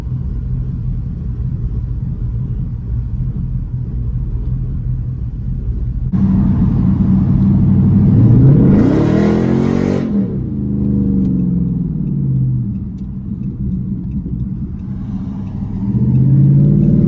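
A Dodge Charger SRT8 driven in manual mode gives a loud, steady low engine rumble from inside the car, swelling into a rising rev and whir partway through before settling back to a deep drone.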